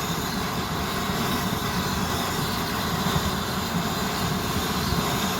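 A Swiss army petrol burner stove roars steadily, a dense, even rushing hiss and rumble close up with no pauses and no voices.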